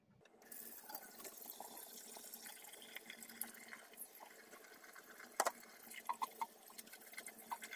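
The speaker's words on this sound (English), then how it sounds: "So let's get to washing all of this wonderful lettuce." Garden-fresh lettuce being washed under running water, a steady close tap flow with faint splashes and a few drips, no talking.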